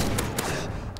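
M4A1 carbine fire in Modern Warfare 2 during a Team Deathmatch on the Afghan map, with rapid shots running through a dense, steady wash of battle noise and several sharper bursts standing out.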